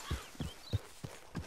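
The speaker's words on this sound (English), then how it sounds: "Okay, horse, you gonna have to pick up the pace." A horse walks in Red Dead Redemption 2, giving five soft, low hoof thuds at an even, unhurried pace, faint and alone without voices.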